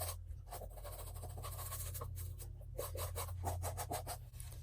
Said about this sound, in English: you just continue to scrub